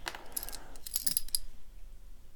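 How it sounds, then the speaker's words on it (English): Small metal keys for a Matlock 3855 16-pin cross padlock clink and jingle in the hand, a few bright rattles in quick succession up close, then fading to quiet handling. "let me look at the keys"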